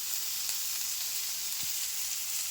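Onion frying in hot oil in a wok sizzles steadily and evenly throughout, close and continuous, with a faint stir scrape partway through.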